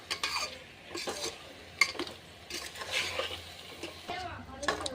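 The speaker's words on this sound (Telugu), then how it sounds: "ఇలా మొత్తం ఒకసారి కలుపుకోవాలి వెజిటేబుల్స్ అంతటికి మసాలా బాగా పడుతుంది" A spoon stirs vegetables coated in masala inside a pot for veg dum biryani, producing repeated scraping and clinking strokes against metal over a soft background sizzle, close and steady throughout.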